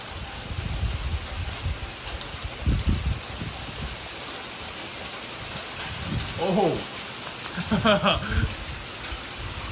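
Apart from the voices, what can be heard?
heavy thundersleet, sleet and thunder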